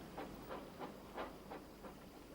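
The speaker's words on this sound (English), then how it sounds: "he noticed Porter shunting an extra train on the other track" Train shunting at the docks: steady rumbling rail noise with a regular series of soft rhythmic clanks and chuffs about every third of a second, moderately distant, with no talking.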